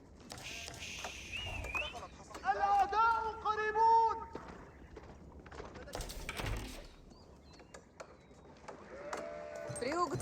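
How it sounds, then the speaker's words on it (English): Sheep bleat in the Age of Empires 4 real-time strategy game, several wavering bleats in bursts near the middle and end, heard among game sound effects and a commentator's talk. "He has a good number of sheep there."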